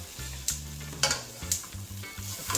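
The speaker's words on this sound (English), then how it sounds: "I will now go ahead and add some butter. Add some butter to the pot." Butter melts and sizzles in a pot over heat before fish is steamed in coconut milk, Jamaican style. A brief crackle is punctuated by a few sharp utensil taps against the pot.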